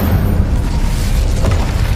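A fire spell cast in the game Hogwarts Legacy bursts in a loud, dense rumbling blast that fills the whole two seconds with low booming energy and crackle.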